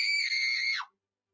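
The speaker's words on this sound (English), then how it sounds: "Why are you screaming?" A woman screams loudly and alone in one sustained, shrill burst of almost a second, her pitch sliding down sharply as the scream breaks off into silence.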